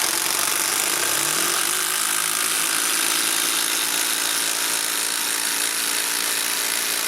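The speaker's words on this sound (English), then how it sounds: "Can the brushless make any further improvements in the automatic mode?" A Makita 12V brushless impact driver runs in automatic mode with a loud, continuous mechanical hammering whir. It rises in pitch at the start, then holds steady throughout.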